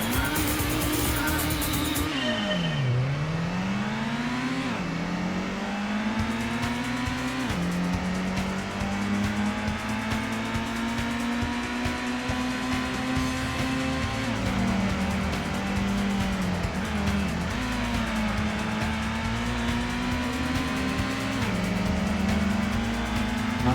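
A Gran Turismo race car engine revs and shifts continuously, its pitch sweeping down and climbing back through gear changes, with tire squeal and skidding mixed in at a steady, loud level.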